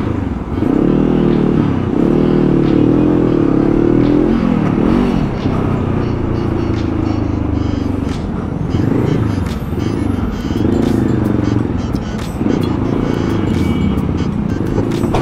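Heavy holiday-season street traffic with motorcycles and cars, close engines idling and revving in waves, clattering and rising and falling continuously for the whole stretch, with brief speech mixed in.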